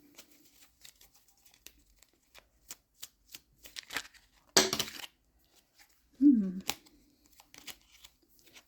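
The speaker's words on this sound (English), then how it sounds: "A lot of cards fall out, but it's like it doesn't feel right." Tarot cards are shuffled by hand in a quiet room: soft papery riffles and taps come in short irregular bursts, with a louder flurry midway and a brief murmur of voice.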